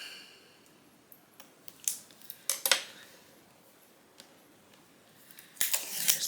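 Backing being peeled off an acrylic bookmark print after a print-and-cut craft job: faint crinkling and several sharp plastic crackles and snaps up close, with a louder burst at the end.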